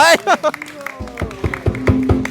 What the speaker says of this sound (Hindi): सबने हाथ ताली बजा दिया